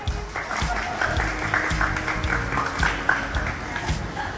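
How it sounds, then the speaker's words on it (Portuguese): Applause from a small group gathered in an auto repair shop, a steady mid-level patter of clapping with some low rumbling background noise and a few brief voices. "Vocês fazem palmas aqui, palmas, vai lá"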